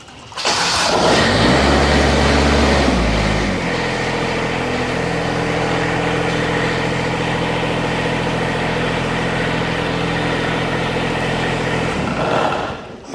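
A Kubota diesel engine fitted with new glow plugs cranks with a loud, low rumble, catches after a few seconds and settles into a steady, even idle that runs close and loud until it cuts off near the end.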